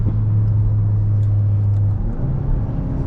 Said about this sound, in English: this dual clutch, I'll try to show you here when I downshift